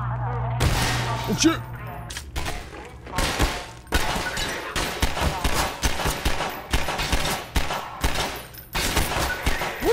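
Rapid gunfire in the Half-Life 2 VR game: dense, loud volleys of repeated shots crackle through the whole stretch, with a brief exclamation from a player near the start.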